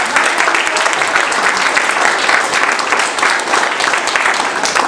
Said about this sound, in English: well, now we'll do an applause.